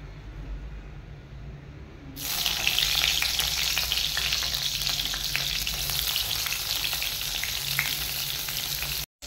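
Eggplant slices salted and coated with turmeric drop into hot oil, and a loud, steady sizzle starts suddenly after a quiet moment. The close frying hiss continues without a break.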